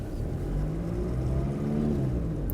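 A car engine hums and rises in pitch as it revs up, a steady low drone with a whirring tone and odd water-like noises, close and continuous.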